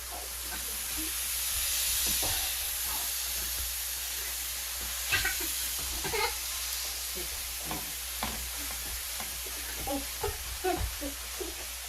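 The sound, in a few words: steak sizzling in hot frying pan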